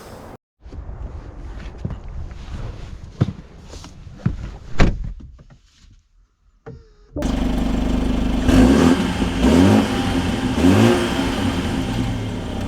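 A 2024 BMW 530i with M Sport options runs quietly at first amid a few door and cabin knocks, then its engine fires up loud and steady, holding a strong rumble with rising revs as it pulls away.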